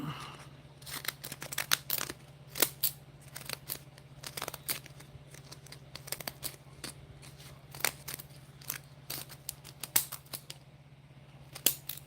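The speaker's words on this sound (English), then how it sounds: "These scissors get on my nerves, honey, because they don't like to cut unless they want to." Scissors snip repeatedly while trimming a book, a run of sharp close clicks and crunches in an uneven rhythm over a steady low hum, with no talking.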